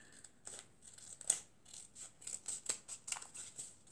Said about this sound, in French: Et on coupe le surplus.